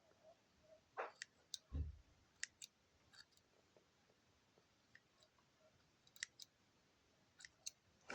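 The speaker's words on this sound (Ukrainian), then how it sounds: "Ножицями хочу їй чуть-чуть підрізати волосічко" Soft, sparse snips of scissors trimming hair close by, a few quick clicks scattered through an otherwise quiet stretch.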